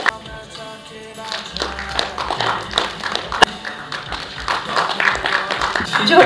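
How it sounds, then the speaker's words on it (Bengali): An audience at a cultural group's 10th-year celebration claps, with scattered, uneven hand claps and thumps mixed with voices in a room. "আমরা সকলে সবাই একটু হাততালি দেওয়া হোক।"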